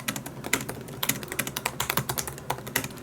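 Keys on a 2016 MacBook Pro keyboard with almost no key travel are clicked in quick, uneven bursts of sharp, close taps, with no voice over them.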